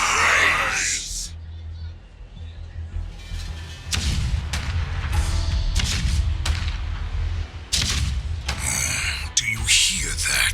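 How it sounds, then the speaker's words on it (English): Cannon fire in Honkai Star Rail, heavy booms and rumbling blasts arriving in several loud bursts with pauses between them, accompanied by a voice speaking over the battle. "Do you hear that? The rumble of the cannons."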